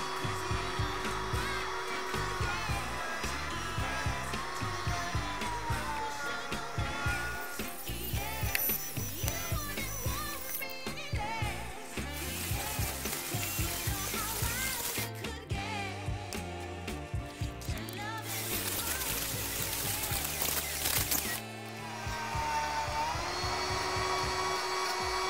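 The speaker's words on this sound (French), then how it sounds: "Et je finis à la meuleuse portative." A portable angle grinder whines continuously through finishing work on a car's new turn-signal installation, its pitch shifting as the disc loads and frees against the metal, loud and close throughout.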